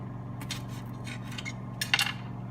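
Kitchen utensils clinking and scraping in a sink as they are washed, faint scattered taps with one sharper metallic clatter near the end, over a steady low hum.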